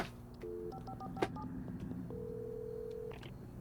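Faint telephone keypad tones in a video game beep in a short sequence, followed by a longer steady tone, quiet against a low background hum.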